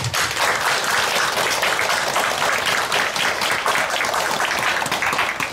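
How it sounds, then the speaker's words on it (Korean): A loud, dense burst of audience applause fills the room at a book launch ceremony honoring a Buddhist monk, with many hands clapping steadily and no voices over it. "큰 박수 부탁드립니다"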